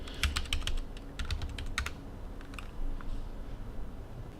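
Quick bursts of keystrokes on a computer keyboard entering a username and password, close clicking in two clustered runs followed by a few sparse taps, no voice.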